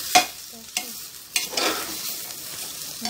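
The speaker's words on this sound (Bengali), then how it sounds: "আলুটা দিয়ে দিলাম, এগুলো দিয়ে ভালো করে একবার কষিয়ে নেব।" Fried potatoes being stir-fried in a pan for chicken biryani, with a few sharp scrapes of a spatula over a steady soft sizzle, close and alone.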